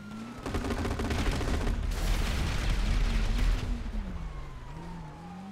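Dense bursts of rapid video game gunfire crackle over a rumbling background, with a wavering siren-like tone running through and fading toward the end.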